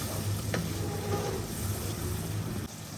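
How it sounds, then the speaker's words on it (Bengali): Turmeric and garam masala sauté in oil for hilsa pulao, giving a steady low sizzle with a few utensil clinks and stirring scrapes close by, with no talking. "একটু হলুদের গুঁড়া গরম মশলা এটারে একটু কষাই লই"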